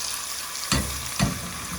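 Sarson ka saag sizzles as it fries in hot pure ghee: a steady, hissing crackle with two sharp, louder bursts as more goes into the pan. No one speaks.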